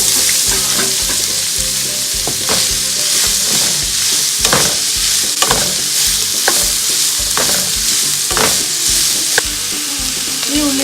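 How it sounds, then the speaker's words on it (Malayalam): Onions sauté in oil in a pan for chicken dum biryani, a loud, close frying crackle broken by regular scraping stirs every second or so. "അതിലേക്ക് പാൻ വെച്ച് ഇതിലേക്ക് എണ്ണ ഒഴിച്ച് നമുക്ക് വഴറ്റിയെടുക്കാനുള്ള ഉള്ളി അതിലേക്ക് ഇട്ടു."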